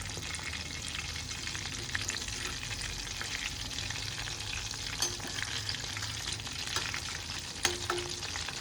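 Prawns Koliwada fry in a pan over a low flame, a continuous close sizzle with faint crackles and a few sharp clicks as pieces are turned, with no voices.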